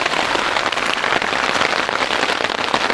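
Steady rain pours down at a forest camp in Tahura, Kalimantan, a dense continuous hiss of drops drumming on nearby surfaces with no let-up, loud and close throughout.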